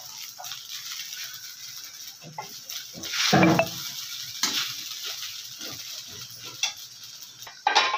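Sabudana khichdi stirred and mixed in a pan, giving soft scraping and rustling with a louder spatula scrape midway and a few sharper clinks, close and alone without talk.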